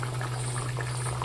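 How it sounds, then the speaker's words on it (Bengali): Fish curry broth with potato at a rolling boil in a pan, a close, continuous bubbling simmer over a steady low hum. "দেখুন ঝোলটা ফুটে গেছে"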